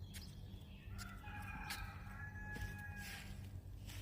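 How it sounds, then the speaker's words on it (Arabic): Rooster crowing outdoors in a garden on a humid, cloudy morning, a drawn-out call rising and falling at moderate distance over steady background ambience with birds. "سامعين الديك؟"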